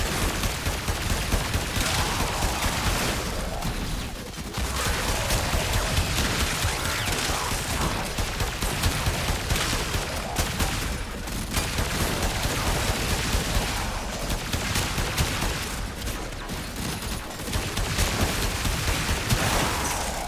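Sustained automatic gunfire from the Incarnon Braton Prime in Warframe, dense rapid shots roaring almost without break for about twenty seconds, loud and close with only brief gaps.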